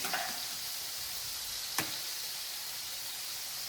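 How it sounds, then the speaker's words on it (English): Eggs fry in a pan for sunshine burgers, a quiet, even sizzle with a brief knock or clatter midway and a soft bump at the start, no voices. "I am just going to put my eggs right in the pan."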